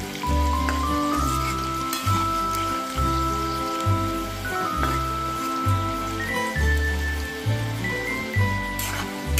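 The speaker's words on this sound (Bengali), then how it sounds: "ক্রিস্পি করে ভেজে নিতে হবে এটা আলুটা" Potato pieces fry crisp in hot oil with a continuous bubbling sizzle and crackle, while a rhythmic low thumping beat of background music runs throughout.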